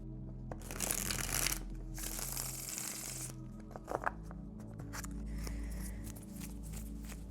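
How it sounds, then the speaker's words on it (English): A deck of tarot cards is shuffled by hand, giving riffling bursts and softer sliding, flicking sounds over about seven quiet seconds with no talking. "let's shuffle the cards and see what they have to say here about this"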